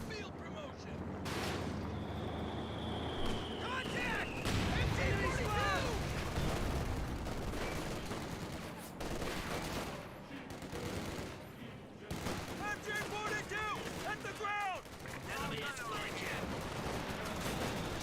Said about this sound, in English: Good shot there on the Panzer IV.